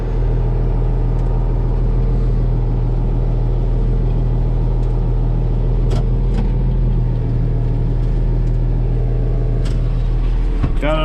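International 1586 tractor engine running steadily, a deep continuous rumble with a constant low drone throughout, close by, with a few faint clicks and a brief rise near the end, no talking.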